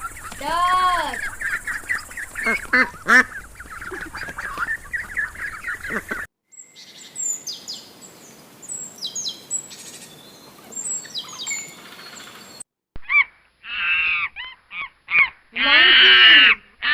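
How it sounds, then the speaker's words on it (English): Duck calls come in loud, close bursts of honking quacks, split across several short segments with chirping birdsong in between and brief silent gaps. "Duck."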